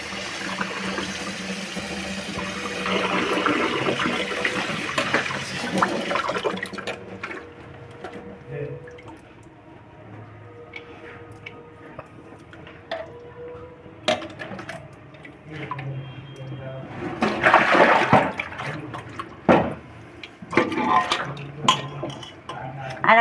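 Soya chunks being rinsed in water in a kitchen bowl, with running-water splashing and sloshing at first, then intermittent swishes and dish clinks, moderately close.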